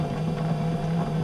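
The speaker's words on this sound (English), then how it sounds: "The engines on the airplane are the original Wright Cyclone engines" Original Wright Cyclone nine-cylinder radial engines on a DC-3 airliner produce a steady, loud, droning hum with a deep low throb, heard close and alone without any talking.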